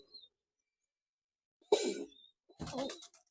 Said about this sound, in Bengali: এই যে দেখেন কিছু কবুতর এখানে ফ্লাইং এর কবুতর